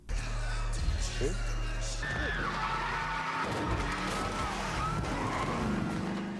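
An invisible car skids in a scene from the TV series Atlanta: a car engine runs under talking, then a long tire squeal glides downward in pitch, fairly loud and close, with voices throughout.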